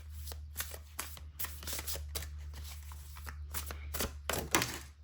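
Tarot cards shuffled by hand, a dense run of crisp riffling and slapping bursts in an irregular rhythm, close and fairly loud with a low steady hum beneath and no voices.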